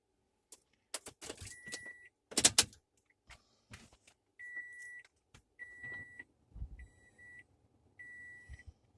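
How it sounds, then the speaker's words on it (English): A truck is switched on, and its dash chimes sound in a row of about five evenly spaced, fairly quiet beeps, mixed with clicks and a jangle of keys near the start. "let's go ahead and cut the truck on and make sure that it does work."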